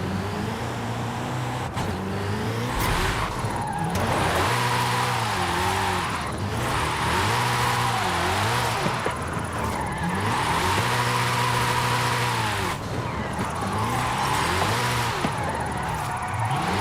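A Hennessey Venom F5 hypercar engine in Forza Horizon 5, revving hard and sweeping up and down through the gears in repeated climbing whines, loud and continuous, with tire noise beneath.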